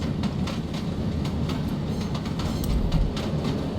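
A train in a video game runs with a steady, loud rumble and faint rhythmic clatter throughout, with no talking.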